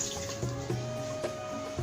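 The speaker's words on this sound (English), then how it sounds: "So I am adding over here according to my pressure cooker 3 cups of water." Three cups of water pour steadily into a pressure cooker while shami kabab is being cooked, a soft continuous splashing stream with a faint tonal hum behind it and a few small knocks.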